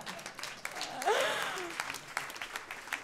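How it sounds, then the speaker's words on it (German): At a Berlin stand-up comedy show, a lone audience member claps a few scattered, sparse claps under the comedian's speech and some murmuring, faint and uneven rather than a full applause. "Danke, einer klatscht, danke."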